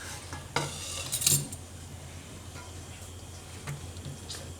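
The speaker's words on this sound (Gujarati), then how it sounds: "બધું આ રીતે એકદમ મિક્સ કરી લેવાનું" Brinjal and potato curry being stirred and mixed in a pan, with a few scraping clatters of a spoon against the pan and a faint sizzle underneath, otherwise quiet.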